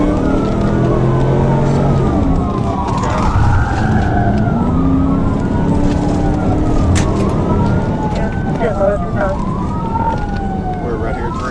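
A police siren wails and yelps in repeated rising and falling sweeps throughout, loud over road and engine noise, as a trooper pursues a fleeing motorcyclist near Geyer Springs Road.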